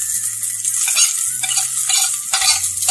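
Hamburger meat and onions frying in a pan, a steady loud sizzle with low hum underneath and occasional stirring scrapes, continuous for a few seconds with no talk.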